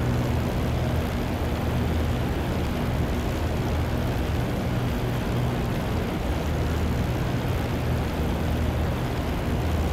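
Spitfire LF Mk. IX piston engine in the DCS flight simulator, a steady loud drone of a low pass over the runway at 260 to 280 mph, continuous and unbroken without voices.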